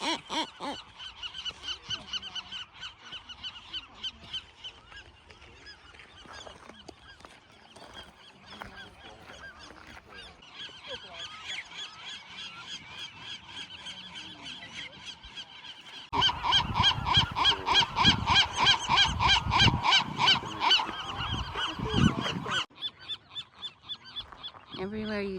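Western gulls nesting on Anacapa Island in the Channel Islands call constantly, a colony of harsh, honking cries from many birds near and far, growing louder and denser in the last third.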